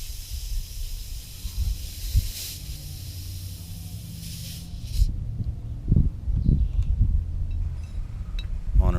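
High-pressure air hissing as a Hatsan FlashPup PCP air rifle is refilled to 200 bar from a 1.1 liter buddy bottle, a steady loud rush that cuts off midway, followed by clicks and handling noises.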